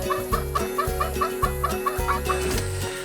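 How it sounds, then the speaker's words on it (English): Chickens clucking inside a backyard chook house in an Australian garden, a steady run of repeated clucks close by, with no talk. "So how many chickens do you keep in here?"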